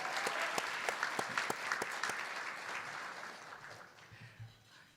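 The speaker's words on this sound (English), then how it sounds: "How about a nice round of applause for Terry and Charlie?" An audience at a leadership awards event applauds steadily, a dense wash of many hands clapping with a few sharper claps on top, slowly fading toward the end.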